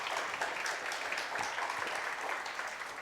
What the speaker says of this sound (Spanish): Dale un aplauso al Señor si lo puedes creer